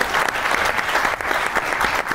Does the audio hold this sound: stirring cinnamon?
no